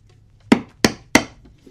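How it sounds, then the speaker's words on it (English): Three sharp, evenly spaced mallet strikes drive a quarter-inch chisel into wood, chopping out waste between hand-cut dovetails, each blow a crisp close knock with a short decay. "we'll take our quarter inch chisel, and you only want to take about a 16th at a time."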